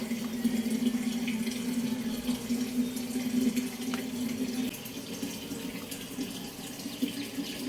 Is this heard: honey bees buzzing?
no